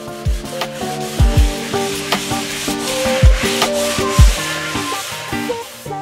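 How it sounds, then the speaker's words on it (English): Dried water-based plaster coating a polystyrene dough ball is sanded by hand in repeated rasping strokes, close and loud, with some knocks and a steady musical background underneath. "The water-based plaster mix is air-drying, and can easily be sanded back to lose that polystyrene texture"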